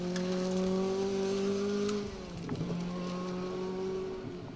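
A Ford Escort RS 1800 rally car passes along a gravel forest stage, its engine note held high and steady. It then drops as the driver lifts and shifts, and the revs build again as the car pulls away.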